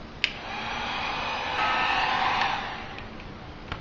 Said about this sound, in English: you have your heat gun. I put it on high and I can soften the edge with that.